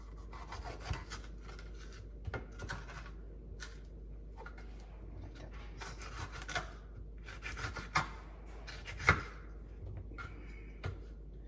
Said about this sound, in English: And then we're gonna slice this one up.